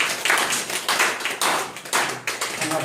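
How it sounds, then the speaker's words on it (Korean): A small indoor audience claps in a brief burst, the sharp overlapping hand claps coming in loose pulses, moderately loud and close with no talking. "박수 한번 쳐주십시오."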